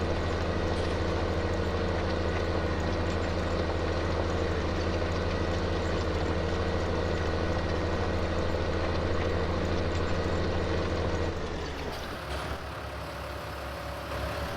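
Tractor engine in Farming Simulator 19 drones steadily and loudly with a constant low hum, then abruptly drops off near the end.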